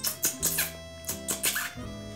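A voice imitates a mouse squeaking in the Spanish children's cumulative song game Doña Carmen, giving a quick series of about six short, bright, high squeaks over a soft instrumental backing.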